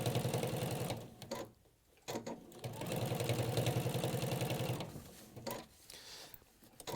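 A sewing machine runs in fast bursts, stitching through a shirt body and one layer of undercollar, its rapid even needle chatter stopping briefly twice before starting again, close and clear.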